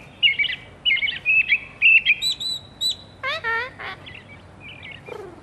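A group of birds sings in a series of short chirps and whistled phrases, clear and fairly close, separated by brief gaps, with a few squeakier, descending calls near the end.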